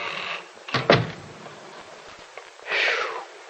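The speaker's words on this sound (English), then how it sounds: "I guess maybe I ought to close the door, too, huh?" A house door swings shut with a short, loud knock, followed by quieter shuffling and a softer rush, in an old radio drama scene.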